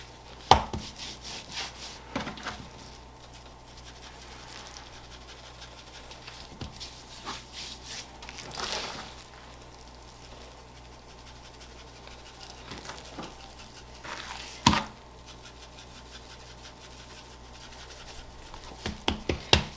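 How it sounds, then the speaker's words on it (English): Dry rub is coated onto picanha beef with scattered soft rubs and pats, then sharper handling taps at intervals, all close and fairly quiet with no talk. "Flip it over. Coat the other side, that'll give it a nice crust."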